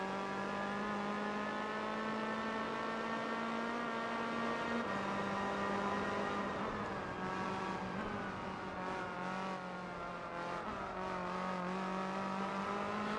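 Race car engines from the Gran Turismo 4 video game hold a steady, sustained whine with shifting pitch, a continuous droning mix of motors with no speech over it.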